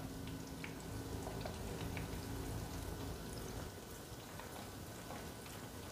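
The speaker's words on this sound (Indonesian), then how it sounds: "kita goreng sampai uh, si kulit panirnya ini garing" Potato and corned beef croquettes in a crisp breadcrumb coating fry in hot oil, giving off a steady, dense crackle and sizzle that holds at an even level from start to finish with no talking.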